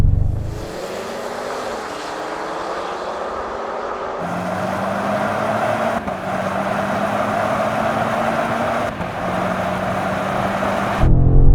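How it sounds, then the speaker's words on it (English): A BMW M5, Audi RS7 and Mercedes-AMG GT 63 in sporty settings accelerate hard in third gear from 30 mph, a loud, sustained engine roar rising steadily in pitch with brief breaks at gear-like transitions, heard alone without talk. "a roll on from 30 mile an hour in third gear for sporty settings"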